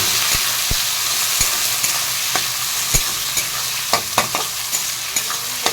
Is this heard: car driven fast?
no